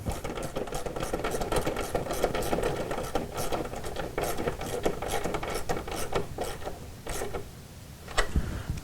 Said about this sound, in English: take your 10mm wrench along with your 8mm T-handle or socket, and you can tighten this side piece down